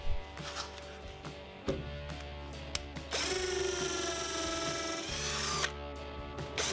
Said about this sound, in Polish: To na koniec przetestujmy sobie wiercenie z udarem.